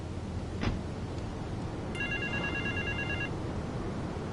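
A telephone rings once in an open-world video game, a short electronic trill lasting about a second, clear against a steady backdrop of game ambience with a brief thud just before it.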